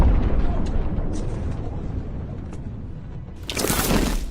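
An Iranian missile strikes a target in Israel with a heavy warhead, setting off a large blast. A continuous rumbling roar runs throughout and ends in a loud, sharp burst near the end, with no speech heard.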